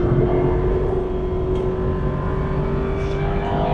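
An Aston Martin V8 Vantage's 4.3 litre V8 pulls steadily under load, a continuous engine drone heard from inside the car, with no voices over it.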